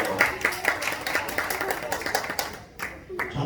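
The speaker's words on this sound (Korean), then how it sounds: "박수!" A small group of children at a church Sunday school clapping for a classmate getting a toy robot gift, steady quick claps that thin out near the end, with voices mixed in.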